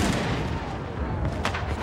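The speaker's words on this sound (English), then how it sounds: "The British began a very heavy fire from their cannon" British cannon fire from a Revolutionary War battle rolls on as a dense, continuous rumble of overlapping booms, loud and sustained for about two seconds with no pause.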